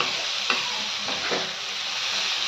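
Green chillies for a rustic Maharashtrian kharda fry in a pan with a dense, continuous sizzle, broken by a few faint spatula knocks as they are tossed.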